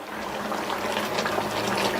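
Water pours in a steady, close, continuous stream onto jaggery in a cooking pan while making payasam, with no talk over it.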